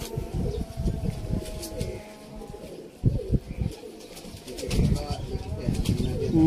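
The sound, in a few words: khaki pigeons cooing on a Sialkot rooftop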